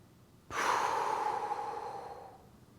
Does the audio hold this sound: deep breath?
yes